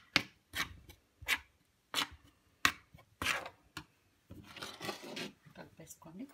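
A spoon stirs powder into sugar syrup for a cashew pistachio sweet, making a series of close scraping, knocking strokes against the pan, then a softer, continuous rubbing stir.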